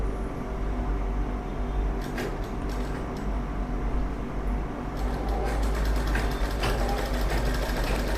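A sewing machine stitching fabric, likely for cross-piping work, runs in a steady, continuous whir at close range with no talking.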